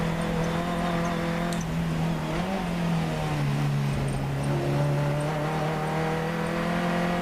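A Funcup race car accelerating hard around the Croft circuit, its loud engine droning steadily close by through the whole stretch, the pitch dipping briefly and then climbing again.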